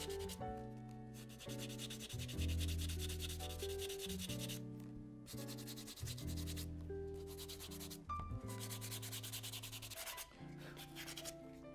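Steady, close rubbing strokes of sandpaper smoothing the worn edge of a leather shoe heel, a continuous rasp that pauses briefly a few times.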